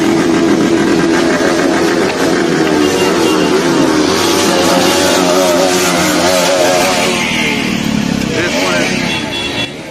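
Many motorcycles on a highway, engines revving and droning loudly together throughout, with a person talking over the traffic noise.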